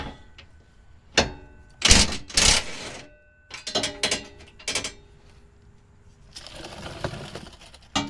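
A ratchet loosens the skid plate bolts on a Jeep Wrangler JL, giving several bursts of clicking and metallic clanks at an uneven pace, close by and fairly loud, with no talking.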